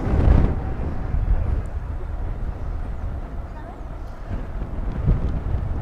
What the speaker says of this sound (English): Wow, it's windy.